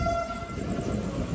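A Vande Bharat Express train pulls into Howrah station with a steady rolling rumble, over which a brief, faint high horn tone sounds near the start.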